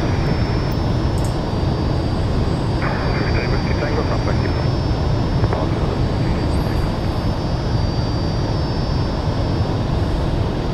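Steady, loud jet engine drone of a Fouga Magister in Microsoft Flight Simulator, flying in formation over southwest France, a broad continuous roar with a faint high whine that holds unchanged throughout.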